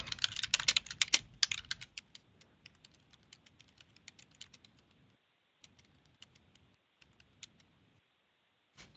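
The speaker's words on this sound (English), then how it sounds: "So I'm going to type in help me, I need support." Quick clicking keystrokes on a computer keyboard come in a dense burst at first, then thin to sparse taps and short pauses, close and without talk.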